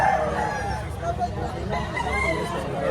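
A rooster crows at a poultry expo amid a murmur of people talking nearby, its call rising over steady background chatter and low rumble.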